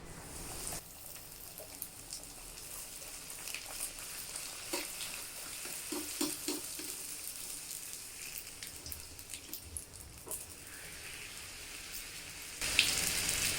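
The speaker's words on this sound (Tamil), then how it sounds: "இப்போ பூரியை பொரிச்சு எடுத்துடலாம்" Rava poori deep-frying in hot oil: a quiet, continuous hiss of bubbling oil with scattered crackles and pops, faint and steady, no voices.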